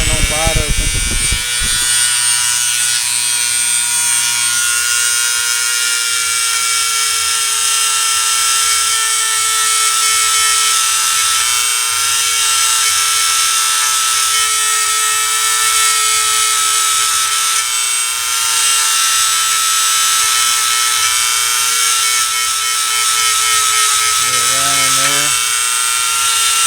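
A high-speed rotary tool with a cotton polishing nap and white rouge whines steadily at full speed on the feed ramp of a Walther PPK pistol, loud and continuous, with someone briefly talking at the start and near the end.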